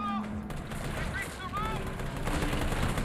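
Gunfire in Resident Evil 3 rattles off in quick repeated bursts, loud and close, with a person talking over the shooting throughout.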